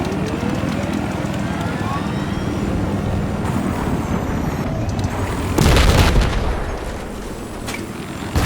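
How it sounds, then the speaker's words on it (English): A 25mm cannon and laser guided missiles firing in a helicopter video game, a steady roar of rotor and engine noise with a loud blast-like burst midway, followed by continued rumbling. "here's some video of my old favorite, the 25mm cannon and laser guided missiles"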